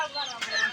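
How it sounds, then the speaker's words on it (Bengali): A desi chicken at a poultry market lets out a single brief cluck, fairly close and short, with faint market noise behind it. "সুন্দর মুরগি।"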